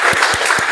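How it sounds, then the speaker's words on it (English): An audience at a Whitefield Toastmasters club meeting applauds after a speech, a close, steady burst of many hands clapping with a few heavier claps. "let's have a huge round of applause for Toastmaster Madhu for that wonderful speech"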